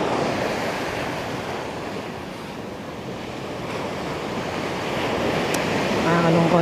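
Sea waves wash steadily onto the sand at Liwliwa beach, a loud continuous roar of surf mixed with wind buffeting the microphone, swelling slightly toward the end.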